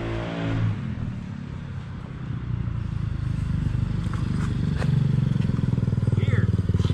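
A Venom X18R 200cc motorcycle rumbles at idle and grows steadily louder as it is brought out, with people talking over the engine throughout.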